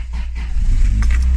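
An old BMW or Starlet car engine starts up close by, a loud low rumble that builds and settles into a steady idle, with no talk over it.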